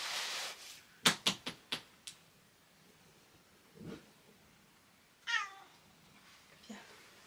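A domestic cat meows a few times, with a clear drawn-out meow in the middle and shorter calls later, alongside a quick burst of sharp clicking taps early on, in a quiet room.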